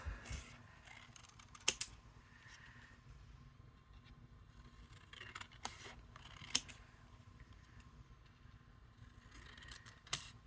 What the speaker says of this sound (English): I just can't cut straight with these scissors at all.